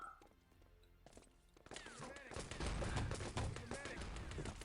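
Gunfire in the team shooter Enemy Territory during a Germany vs Estonia Nations Cup 2014 match: rapid automatic bursts and scattered shots build after a quieter opening, loud and dense, with a commentator's voice over the top.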